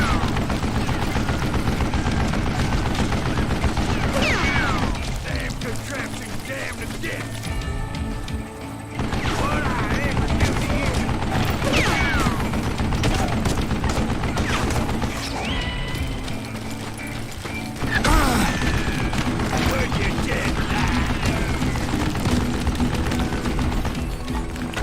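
Sustained Gatling gun fire in the Wild West shooter Call of Juarez: Gunslinger, loud rapid bursts with crashes and impacts layered into a chaotic, nearly continuous barrage lasting about twenty-five seconds.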